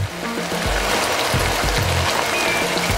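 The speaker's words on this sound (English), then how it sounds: "And I'm gonna add a little bit of that chicken stock." Chicken stock poured from a spouted pot into a simmering paella pan, a continuous splashing, trickling pour with a steady watery hiss and no talking.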